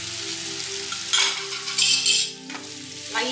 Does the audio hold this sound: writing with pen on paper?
no